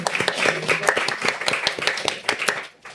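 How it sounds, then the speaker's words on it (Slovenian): Studio audience applause welcoming a guest onto a Slovenian talk show, a dense run of many hands clapping close and steady for about three seconds before tapering off. "Tako, lahko zaploskamo."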